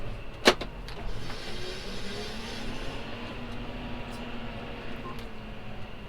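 John Deere tractor turning and sliding in a wet field, a steady engine hum from inside the cab with a brief sharp click near the start and faint knocks, no voices.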